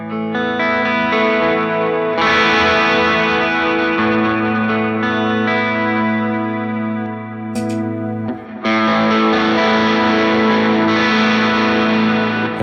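An electric guitar runs through an MXR Duke of Tone overdrive pedal, ringing chords and notes with a warm, moderately driven tone, loud and continuous with a brief dip near the end before strumming resumes.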